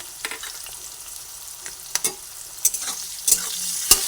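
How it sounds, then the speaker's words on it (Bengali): Capsicum frying in oil with spices sizzles softly and steadily in a pan, broken by several sharp scraping stirs at irregular intervals. "দুটো দিয়ে ক্যাপসিকামটাকে ভেজে নিচ্ছি"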